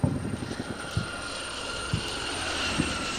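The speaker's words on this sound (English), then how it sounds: "You can hear the chopper." Helicopter in the video game Combat Mission Black Sea, a continuous rotor drone with rhythmic thumps and a few sharper knocks, heard with no talking.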